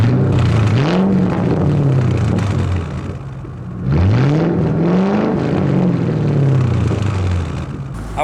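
A Ford Crown Victoria P71 engine is revved twice, each rev rising from a steady idle rumble to a loud, climbing roar before easing back down, close up and with no talking.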